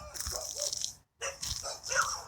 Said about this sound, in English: Don't mean to disturb the dogs.